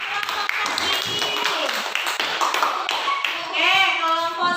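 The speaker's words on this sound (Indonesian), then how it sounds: "baiklah, tepuk tangan untuk kelompok Sandi" Clapping for a student group in a classroom mathematics lesson, brisk uneven hand claps from a smaller group, with children's voices and chatter mixed in beneath.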